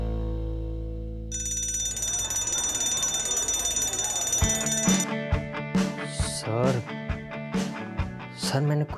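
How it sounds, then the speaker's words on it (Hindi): A school fire alarm set off as a prank rings continuously with a bright, steady electronic tone, clear and fairly loud, while people talk over it and shuffling and clatter build beneath. "तुमने सिर्फ मजाक में फायर अलार्म ऑन कर दिया।"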